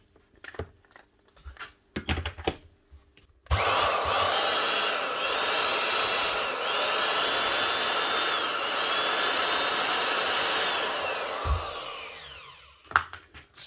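Makita RP0900 plunge router after repair: a few handling knocks, then the motor switches on to a loud, steady high-pitched whirring whine for about eight seconds before spinning down to a stop, with faint clatter around it.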